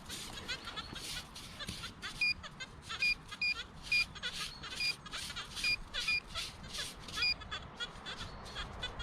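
Short high electronic beeps from a metal detector repeat in pairs at irregular intervals over outdoor rustling and faint background noise.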